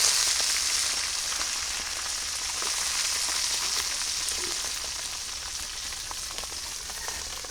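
Red amaranth greens frying in oil with browned onion and garlic in a village kitchen give a steady, dense sizzle that holds close and even throughout, with faint crackles scattered on top.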